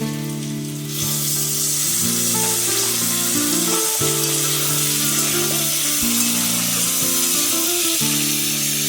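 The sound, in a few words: onions and potatoes frying in a pan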